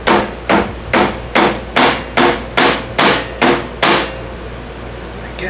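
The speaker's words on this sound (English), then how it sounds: "maybe I get a soft hammer and whack it" A soft hammer strikes the tailstock of an Atlas Craftsman lathe during repair work, nine loud, evenly spaced whacks with short ringing decays, then quiet.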